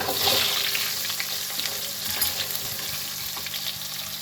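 Onions frying in oil with cumin, coriander seeds and a pinch of asafoetida, a loud close hiss and crackle right after they drop in, settling into a steady sizzle with occasional stirring taps.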